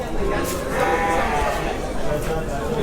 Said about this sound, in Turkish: Ben şu keçileri bir göstereyim abi.